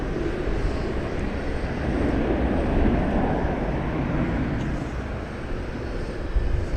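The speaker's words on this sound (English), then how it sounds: "you hear an American Airlines plane roaring off to Boise, Idaho right now" An American Airlines jet takes off at DFW Airport bound for Boise, Idaho, its engines a steady, broad roar that holds loud and even throughout with no talk.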